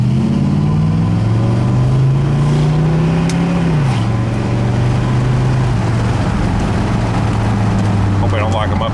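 A 1967 Plymouth Satellite engine runs steadily while driving, a loud low drone that rises slightly then drops back, under constant road noise.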